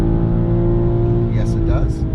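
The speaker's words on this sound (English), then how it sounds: "Now let's wind it all the way out, see if it holds at the rev limiter." A BMW M440i Gran Coupe engine held loud and steady at high revs against the rev limiter, a constant strained drone with a voice speaking briefly over it.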